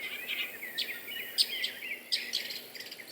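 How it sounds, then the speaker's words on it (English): Birds sing around a lake in Florida: repeated bright chirps and warbling phrases, fairly close and clear over a quiet background, with no talking. "Listen to them birds."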